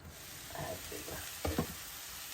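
Cabbage and egg curry sizzles quietly in a pan while being stirred, with a couple of sharper scraping stirs standing out near the middle over the soft frying hiss.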